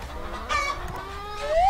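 Young chickens clucking and calling on a small free-range poultry farm, a few short rising calls standing out over a soft background murmur of the flock.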